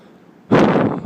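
Gusty wind buffets the microphone outdoors, a broad roaring rush that bursts in halfway through and stays loud and close to the end, following a quieter stretch of faint background noise.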